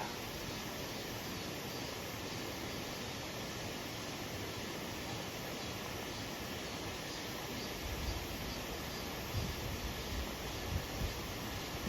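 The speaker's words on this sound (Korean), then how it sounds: "물이 제법 깨끗한 물이 아, 폭포가 작은 폭포가 있습니다." A small waterfall on a clear valley stream, a steady, dense broadband rush of falling water that continues unbroken throughout, close and fairly loud with no voices.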